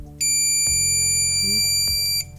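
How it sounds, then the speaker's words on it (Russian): A car alarm unit sounds after a PIN is entered: a brief trill followed by one long, loud, steady electronic beep lasting about two seconds, with no talking. "слышим трель и длинный звуковой сигнал"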